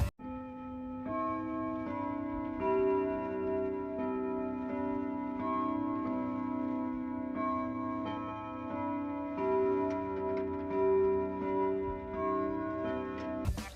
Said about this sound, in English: A grandfather clock. A clock that we can find in both the left hallway in the game and the post-night 1 minigame.